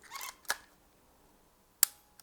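A Nimslo 3D film camera gives a few sharp mechanical clicks, one soft, one crisper, and a loud final snap, each brief and isolated in a quiet room.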